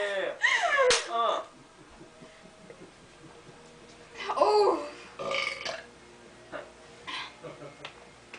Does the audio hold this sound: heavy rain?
no